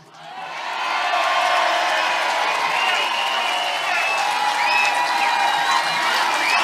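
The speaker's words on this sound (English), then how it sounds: "Give a big cheer to my Uncle Shug." Crowd at a Scottish independence rally in Glasgow cheers and whoops with applause, swelling quickly from a quiet start into a loud, sustained roar with scattered shouts.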